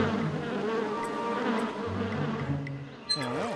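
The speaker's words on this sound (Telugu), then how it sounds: "ఈ తేనెటీగలు లక్క ఇంట్లో నుంచే వచ్చాయి" Cartoon honeybees buzz in a steady, droning swarm, close and fairly loud, with a springy comic sound effect at the end and no talking.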